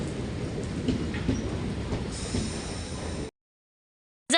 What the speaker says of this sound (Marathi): निर्जे स्टेशनवरून ट्रेन आली देवा स्टेशनसाठी आले